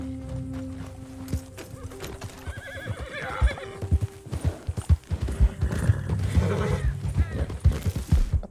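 Hooves clatter in uneven, thudding beats as a Thoroughbred horse in a video game gallops close by, and it lets out neighs and whinnies over the hoofbeats.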